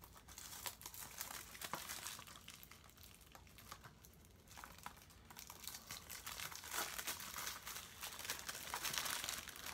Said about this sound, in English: Let me take the plastic off.